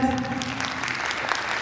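A short burst of steady audience applause fills a children's studio concert hall, with a faint voice at the very start.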